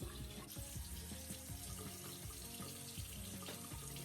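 Water runs steadily from a bathroom tap into a sink while a face is rinsed, a faint, continuous splashing stream with small irregular drips and sloshes throughout.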